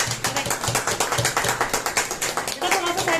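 A small gathering claps in a welcoming round, a steady rhythmic patter of hands that is close and fairly loud, with voices talking over it.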